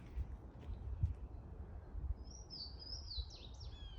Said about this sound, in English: sneaking up on the pinnacle of avian evolution, the Louisiana water thrush.